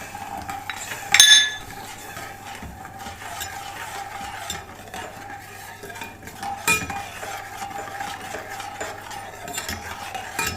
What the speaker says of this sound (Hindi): अब ये अच्छी तरह चम्मच हिलाते जाना है जब तक चीनी अच्छी तरह मेल्ट ना हो जाए